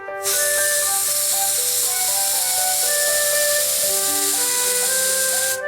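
A pressure cooker whistle releasing steam: a loud, sustained hissing jet with shrill, wavering whistle tones runs continuously for several seconds, close and alone.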